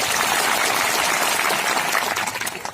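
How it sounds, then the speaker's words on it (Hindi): A crowd claps together at a social gathering addressed by a Birsa Brigade founder, dense and steady applause filling the space before tapering slightly at the end. "खुशी हुई उनके लिए तालियां बजाओ"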